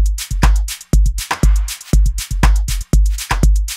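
A programmed drum pattern in which the snare claps are cut short, with punchy kicks and tight, clipped hits repeating in a steady, loud groove.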